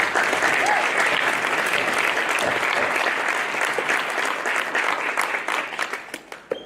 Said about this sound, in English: So let's give Carmen a round of applause.